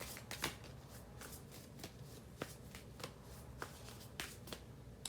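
Tarot cards being shuffled by hand nearby, a soft continuous riffle with repeated sharper slaps of the deck every half second or so, quiet against a faint background hiss.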